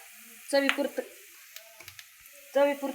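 Turmeric goes into a hot frying pan of sizzling ingredients, with short bursts of close frying hiss and spattering separated by quieter moments of soft pan sounds.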